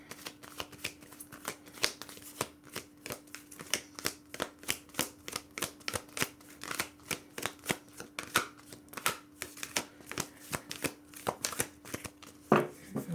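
Thick oracle cards being shuffled by hand, a quiet close series of sharp riffling slaps in an irregular rhythm, roughly two or three per second, with a faint steady hum underneath.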